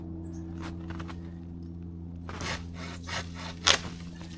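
A Japanese pull saw cuts wood in a few soft, raspy strokes over a steady low hum, the later strokes growing slightly louder and ending with a sharper scrape.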